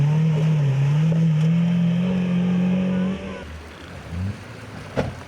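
An off-road Mitsubishi Pajero IO racing in an A1-class event roars loudly with a steady engine drone for about three seconds, then eases off into lower rumbling and a brief sharp knock near the end.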